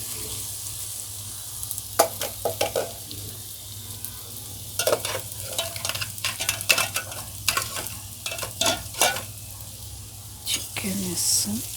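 Chicken pieces go into a pan of golden brown fried onions for a chicken curry, bringing a steady close sizzle with repeated sharp scrapes and clatters of stirring, a low hum running underneath throughout.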